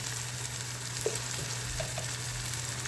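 Spices including turmeric, coriander powder, garam masala and ghati masala sauté in oil with a soft, steady sizzle and a low hum underneath, plus a couple of faint spoon taps.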